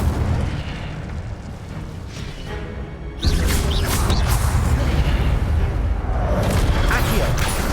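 A loud, roaring Incendio fire spell blast from Hogwarts Legacy bursts in abruptly after a few seconds of rumbling background, then sustains a dense, crackling whoosh until the end.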